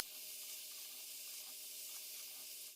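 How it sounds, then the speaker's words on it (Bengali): Ridge gourd sizzles in a hot pan with a steady, hissing fry that stays even throughout and cuts off at the end. "ঝিঙেটাকে একটু ভালো করে ভেজে নিতে হবে।"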